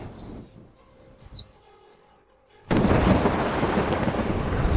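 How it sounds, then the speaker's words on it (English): Heavenly thunder effect in a fantasy audio drama: a quiet rumbling stretch, then a loud, sudden broadband crash that holds as a sustained roar to the end, with no voices. "is the thunder too strong"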